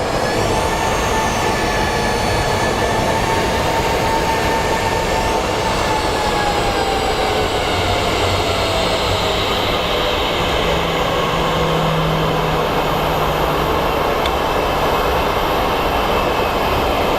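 A Southwest airliner at Phoenix Sky Harbor airport sits preparing for takeoff, its steady broadband engine roar loud and continuous throughout, with a slowly shifting whine drifting overhead and no talk.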